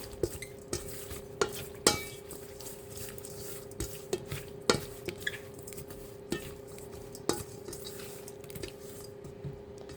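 Seasoning and spices are mixed in a bowl for frying mullets, with a string of irregular clinking taps and soft wet stirring, close and fairly quiet over a faint steady hum, with no speech.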